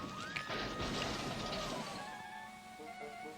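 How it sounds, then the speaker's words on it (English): A loud crash as an engine smashes into a rake of vans at a junction, a sharp burst of impact and clattering debris that slowly dies away, with no voices over it. "Douglas smashed into them at the junction."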